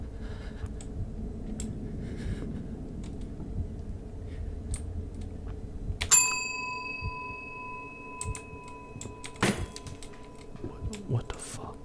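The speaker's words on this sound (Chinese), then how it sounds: "有人在敲我们的铃铛" A single bell struck in the horror video game 776号房, a sharp ringing tone with a long, fading sustain, preceded by faint clicks and background ambience.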